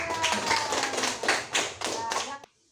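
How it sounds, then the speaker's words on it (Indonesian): Classroom applause as students clap their hands together in a short burst, a few uneven pulses of claps with some taps that end abruptly into silence. "Juga tepuk tangan."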